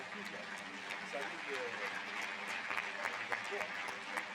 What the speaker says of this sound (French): On peut applaudir les jeunes qui ont eu le courage de venir jusqu'ici.